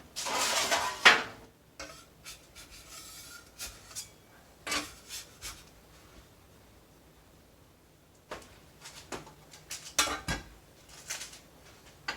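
A bench scraper works soda bread dough on a counter in scattered, close scrapes and knocks, some sharp and some soft, with quiet gaps between them.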